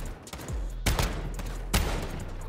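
Shotgun blasts in a video game: two loud, heavy booms about a second apart, with a smaller report just before them, over steady background game noise.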